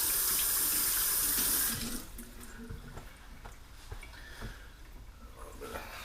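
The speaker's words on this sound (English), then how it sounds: "Okay, wash your hands." Water runs from a kitchen sink tap during handwashing, loud and steady for about two seconds before easing to a softer, broken splash.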